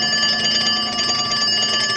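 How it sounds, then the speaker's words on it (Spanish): A telephone rings with a sustained, loud electronic bell tone in the middle of the night, one long continuous trill filling the room before cutting off abruptly. "el teléfono me despertó abruptamente"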